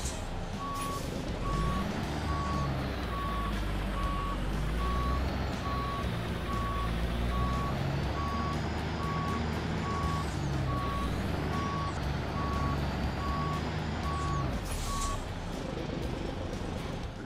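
Peterbilt 389 truck backing up in American Truck Simulator, its reversing alarm beeping in an even, rapid series over the loud, steady rumble of the idling diesel engine, with a brief air-brake hiss near the end.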